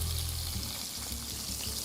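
Garlic frying in a pan of hot oil, a steady bright sizzle with soft crackles, heard close and alone for a couple of seconds.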